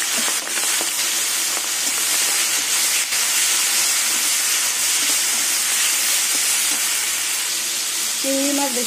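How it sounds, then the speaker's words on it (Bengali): Shrimp coated in salt and turmeric fry in hot oil in a kadai, giving a steady, loud, continuous sizzle throughout, with a short clink of a utensil near the end. "এবার চিংড়ি মাছগুলো ভেজে নেব।"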